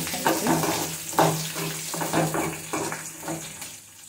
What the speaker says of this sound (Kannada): ಈರುಳ್ಳಿ, ಬೆಳ್ಳುಳ್ಳಿ ಹಾಕಿ ಸ್ವಲ್ಪ ಫ್ರೈ ಮಾಡ್ಕೊಳ್ಳಿ.